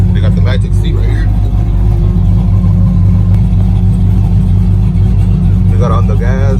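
A truck with an LSX engine holds a loud, continuous roar under throttle, with a steady deep drone across the whole stretch and people talking over it.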